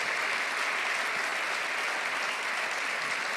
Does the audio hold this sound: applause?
yes